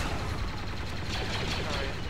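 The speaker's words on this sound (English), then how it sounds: "I love the sound of the Mandalorian blaster" Mandalorian blaster shots in Star Wars Battlefront 2 on a modded Order & Peace Coruscant map, a steady rapid barrage that blends into loud, dense battle noise.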